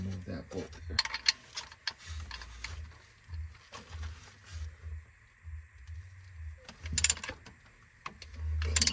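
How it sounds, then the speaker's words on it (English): A ratchet turns out a bolt on the belt tensioner of a Jeep Grand Cherokee, giving intermittent mechanical clicks and rattles up close, mixed with someone talking and some workshop noise. "Now I'm going to go ahead and remove that bolt there."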